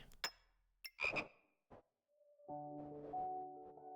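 A toad croaks in the video game Backpack Battles, with several sharp clicks and chirps followed by a longer, buzzing, tonal croak, clear and isolated against silence.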